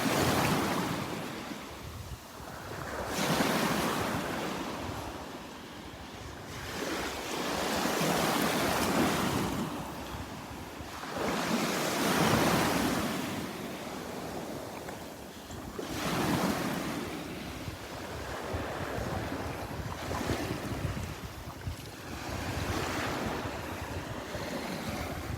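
Ocean waves break on a beach in slow repeating surges every few seconds, each crash swelling and fading, with wind buffeting the microphone throughout and no voices.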